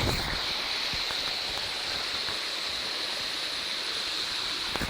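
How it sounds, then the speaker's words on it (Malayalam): Continuous rushing of a stream flowing at a waterfall, steady and close, with no voices. "എങ്കിലും ആവശ്യത്തിനുള്ള വെള്ളം ഒഴുകുന്നുണ്ട്"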